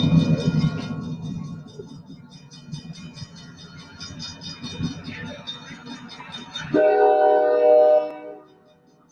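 A train whistle sounds as a loud sustained harmonic blast near the end, after several seconds of rumbling rail noise with softer horn tones and some talk.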